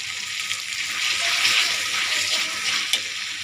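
A ground spice paste of green chilli, garlic, cumin and ginger sizzles steadily in a hot pan while being sautéed for a Bengali tomato and hilsa fish dish, a close, continuous frying hiss with faint stirring and no talk.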